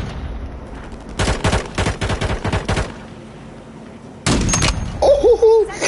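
Sniper rifle shots in the Warzone battle royale game, a rapid burst of sharp, loud cracks followed after a pause by another loud blast, with a short voice-like tone near the end.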